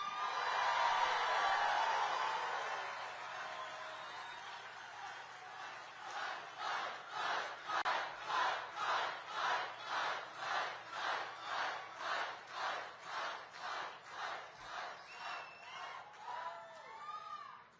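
Crowd at a J.D. Vance campaign rally in Glendale, Arizona, roaring loudly at first, then breaking into a steady rhythmic chant of about twenty evenly spaced beats that rises and swells before fading out.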